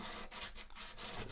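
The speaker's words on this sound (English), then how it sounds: "So I'm going to grab my sandpaper. I'm just going to go across" Sandpaper rubs back and forth across a wooden guitar bridge in quick rhythmic strokes, close and soft, with no talking.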